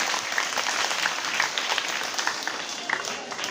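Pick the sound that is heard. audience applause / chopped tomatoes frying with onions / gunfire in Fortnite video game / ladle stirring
audience applause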